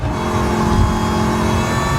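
Car engine in a No Hesi racing game, downshifting to third gear for a sweeping corner, a loud, sustained, steady engine drone with a slight rise in the middle, no talking.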